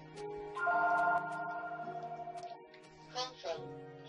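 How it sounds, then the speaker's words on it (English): A mobile phone ringtone plays a sustained, melodic electronic tune, fairly close and clear, during a Minecraft Xbox 360 survival session, with a brief voice-like burst near the end. "And now my phone is ringing!"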